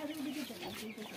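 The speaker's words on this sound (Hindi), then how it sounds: "ए यहाँ पर ये मुर्गी एक यहाँ छुपी हुई है, दो मुर्गियाँ" Chickens clucking close by in a series of short, throaty calls, with a few faint voices in the background.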